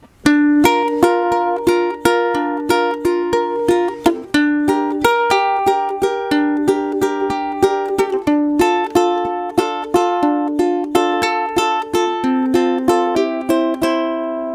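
Close, clean ukulele finger picking on the Paladin Strait progression by Twenty One Pilots, with rapid evenly spaced plucked notes in a rolling pattern that shifts chords every couple of seconds, played alone without talk.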